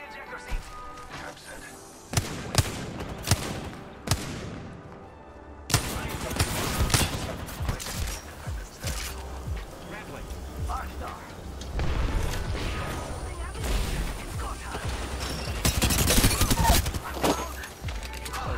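Gunfire in Apex Legends: a few sharp single shots, a short pause, then sustained bursts of rapid weapon fire mixed with game effects and voices, loud and near throughout.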